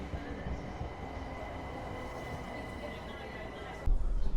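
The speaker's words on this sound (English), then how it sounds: "Let's take this train." A steady, rumbling London commuter train ride heard from inside, approaching Blackfriars, the low roar constant throughout, with a sudden louder clatter near the end.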